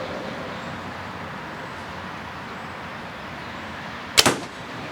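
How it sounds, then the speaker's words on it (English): A single arrow released from a bow during French tuning at about nine yards gives one sharp, brief thwack near the end, alone over a steady low background hiss. "So I'm going to shoot this one again, because that was awful close."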